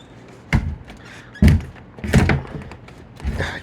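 A door shuts with several dull thunks, four heavy knocks spaced about a second apart, close and fairly loud with a wooden, rattling quality and no talking.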